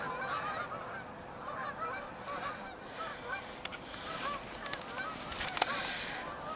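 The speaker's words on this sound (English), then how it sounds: "Oh, I hear the Canadian geese." Canada geese honk in the distance during a winter storm, a flock's faint, scattered calls repeating over a soft background hiss, with no talking.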